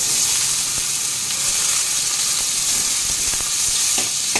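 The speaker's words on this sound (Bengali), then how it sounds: "তেলটা গরম হয়ে গেছে, এবার আমি আলুগুলো দিয়ে দেব।" Potatoes fry in hot white oil in a wok, a loud, close, continuous sizzle with crackling bursts and light stirring sounds.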